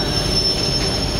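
Double-decker commuter train wheels squealing on the rails, a loud, sustained high-pitched metallic screech over a continuous rolling rumble, close by with no talk.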